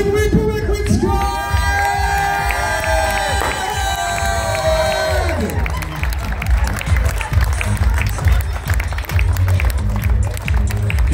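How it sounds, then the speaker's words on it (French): Cheers and clapping from an audience at a trophy awards evening rise as a melodic musical jingle fades out, followed by a loud, continuous crowd roar and applause. "Du bruit pour les Queen Squad!"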